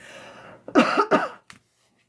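A couple of harsh, close coughs in quick succession, followed by a short throaty catch, then silence.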